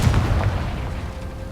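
Confringo blasting spell going off in the Hogwarts Legacy video game, a booming burst with rumbling low-end tail that decays gradually over about a second, loud and close.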